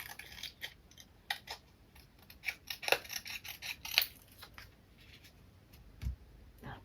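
Scissors snipping through paper, cutting out a printed globe image for a steampunk journal tag: a run of quick, close, crisp cuts at an uneven rhythm, with no voices.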